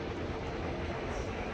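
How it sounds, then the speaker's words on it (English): A train passes through downtown Detroit as a loud, steady, broadband rumble and roar that fills the whole moment without a break. "And there goes the train."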